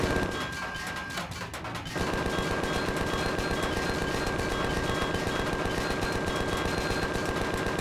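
Sustained automatic gunfire from a weapon in the space survival game Empyrion, a dense rapid rattle that starts after a brief lull and continues loud and steady with no talking.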